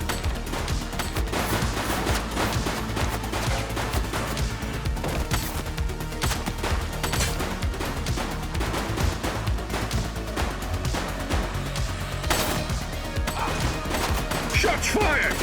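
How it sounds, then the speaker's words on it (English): Gunfire in the police video game The Precinct, dense bursts and scattered shots rattling continuously over a loud, busy mix of crashes and game sound, with voices in the background. "Shots fired!"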